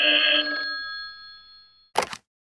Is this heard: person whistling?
no